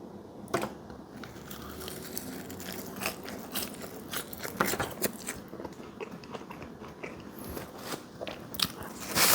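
Fast food fries being bitten and chewed close to the mouth, a run of crisp crunches and chewing sounds in quick irregular succession, moderately loud, with no talking.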